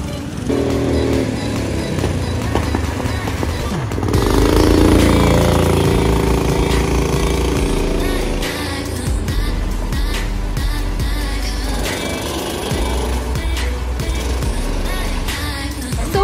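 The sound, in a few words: go-karts driving on a karting track in Algiers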